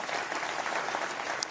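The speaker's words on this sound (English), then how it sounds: "the Prime Minister would have been happy to hear the applause there" Audience applause following a speech by the Prime Minister, a steady, dense clapping from a large crowd that holds at an even level throughout with no voices over it.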